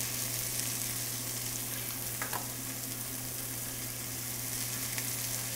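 Pork chops with rosemary fry in a pan, giving a steady, continuous sizzle with a low hum beneath it. The sound stays close and even throughout and carries no voices.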